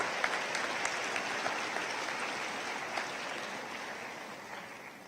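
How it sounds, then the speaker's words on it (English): Audience applause at a college commencement ceremony honoring Honor College students, a dense steady wash of many hands clapping in a large hall, continuing evenly and fading slightly at the end. "I think they deserve another round of applause."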